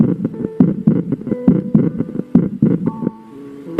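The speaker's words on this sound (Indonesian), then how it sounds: "Seketika, jantungnya berdebar kencang." Heartbeat sound effect in a romance novel audiobook, a steady series of deep double thumps repeating about every half second, loud and close, with no voices over it.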